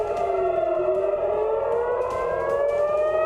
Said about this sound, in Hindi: एहतियाती तौर पर सायरन की आवाज गूंज रही थी